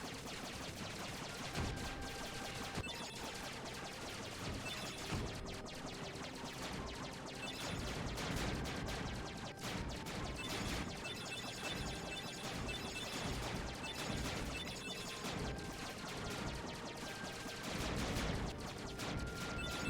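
Enemies fire continuous bursts of shots in the Kingdom Hearts video game, buried in a dense, busy mix of combat effects and music that runs at an even level the whole way through.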